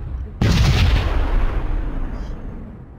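A single sharp gunshot rings out in a first-person shooter video game, landing as a loud close blast with a booming tail that slowly fades away.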